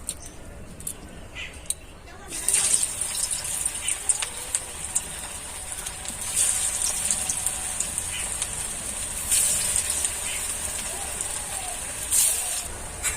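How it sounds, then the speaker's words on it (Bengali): Soybean chops in batter frying in hot oil, a bright, dense crackling sizzle that swells up after a quieter start and keeps bubbling steadily, with occasional louder pops and faint background noise. "তেলটা আমার গরম হয়ে গেছে এবার আমি একে একে এগুলোকে ভেজে নেব"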